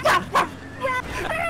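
A small dog gives two sharp, loud yips close by, followed by softer whiny vocal sounds.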